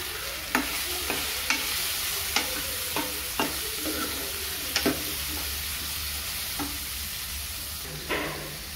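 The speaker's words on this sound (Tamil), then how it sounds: "இப்போ நம்ம நறுக்கி வச்சுருக்கத முள்ளங்கியை சேர்த்துக்கலாம்." Chopped radish stirred into sauteed onion and tomato in a hot pan, a steady sizzle broken by sharp spoon scrapes and knocks every second or so, close and clear with no talking.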